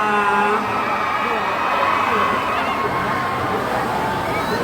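Fans cheer and shout at a red carpet awards event at ICON HALL, ICONSIAM, a steady roar of crowd noise and excited voices with someone speaking over it.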